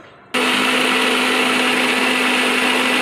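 A mixer grinder whirs steadily as it blends garlic with salt into a paste, starting abruptly after a brief quiet moment and running loud and constant with a strong motor hum.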